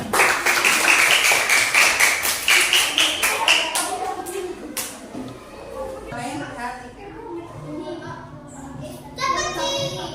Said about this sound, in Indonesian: Beri tepuk tangan untuk kelompok dulu ya